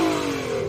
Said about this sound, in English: let's hear the 1000 horsepower car.